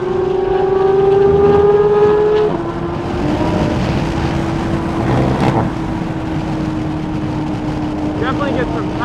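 A modded Subaru WRX is driven hard on a race track, its engine droning loudly and steadily with a falling rev pitch partway through and wind rush throughout, captured from inside the car.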